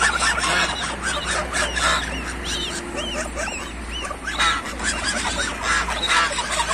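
Adult geese honk loudly and repeatedly as goslings are brought to them, with a dog whimpering and barking among the dense, close calls.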